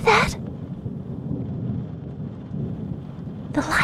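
Rolling storm thunder rumbles low and steady beneath steady rain for several seconds, framed by brief bright crackles at the start and end.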